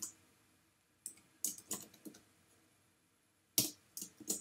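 Fingers type a description on a computer keyboard in short, uneven bursts of clicking keys, with quiet pauses between the flurries.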